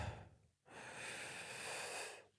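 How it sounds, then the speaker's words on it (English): Heavy, close breathing straight into a microphone during a diaphragm singing exercise: a brief quiet pause, then one long, loud, airy exhalation held steadily for well over a second before trailing off. "I'm probably breathing into the microphone ridiculously now."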